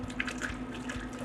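Water from an e-drill filter canister sputters and gurgles in a light, uneven stream as the canister empties, heard close and alone over a low pump hum.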